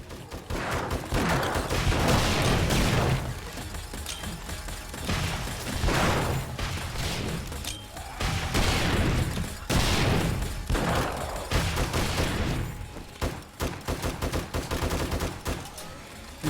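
Turrets defending a base fire at a zombie horde in the survival game 7 Days to Die, repeated loud bursts of rapid gunfire in waves, ending in a sputtering series of separate shots.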